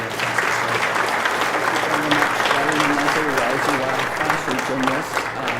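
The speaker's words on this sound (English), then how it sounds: "So round of applause for Deborah Terry" An audience at a university graduation luncheon applauds warmly, a dense, even clapping that holds steady for several seconds in an indoor function room.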